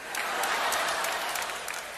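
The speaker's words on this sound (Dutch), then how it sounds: "Geef mama maar een applaus." A studio audience on a Dutch television playback show claps in a dense, steady burst of applause, close and continuous throughout.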